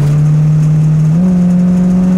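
A 1967 Mustang Coupe's engine pulls hard and loud from the cabin, a steady droning tone that steps up in pitch mid-acceleration and keeps pulling.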